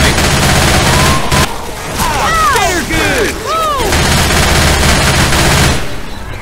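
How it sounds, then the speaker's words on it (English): Shotgun gunfire in a Left 4 Dead 2 alley battle, loud rapid blasts mixed with other weapons firing in a dense barrage, with voices crying out over the shooting. "Shotgun."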